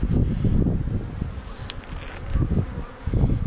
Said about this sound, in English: there's not a whole lot of bees right here